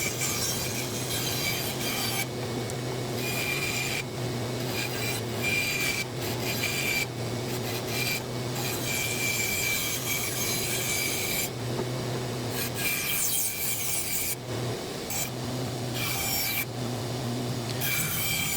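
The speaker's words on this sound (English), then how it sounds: "here I am cutting those parts out on the bandsaw" A bandsaw cuts cypress wood into curved bench-glider parts, giving a continuous loud rasping hum. Brief pauses break the cutting as each piece is fed through the blade.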